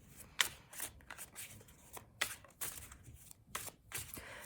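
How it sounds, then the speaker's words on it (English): Tarot cards shuffled by hand during a reading, a run of crisp riffling bursts and soft slaps repeating irregularly at close range, with no talking. "I'm shuffling for the block here"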